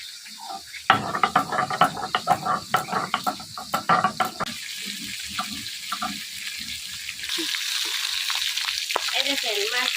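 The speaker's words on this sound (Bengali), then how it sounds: "এই দেখেন মাছ ভাজা হয়ে গেছে আমার।" Catla fish fries in hot oil in a kadai in a village kitchen, opening with a burst of loud spattering crackles for several seconds before settling into a steady close sizzle and hiss.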